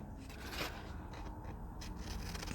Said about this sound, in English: These are the scissors I'm looking for.